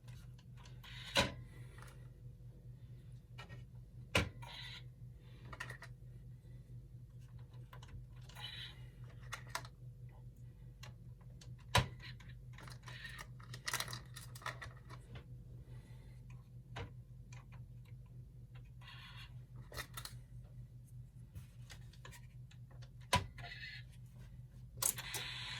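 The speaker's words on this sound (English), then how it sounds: "Just make sure the steppers are moving." Stepper motors sweep the needles of a GM instrument cluster on the bench, giving faint, scattered ticks and clicks over a low steady hum, close and quiet.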